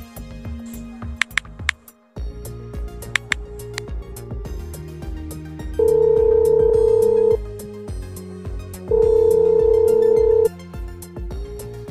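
A telephone rings in an animated Indonesian village scene, its repeating electronic tone bursting out in two loud, steady pulses over a continuous background music bed.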